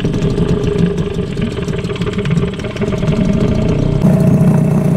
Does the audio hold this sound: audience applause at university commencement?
no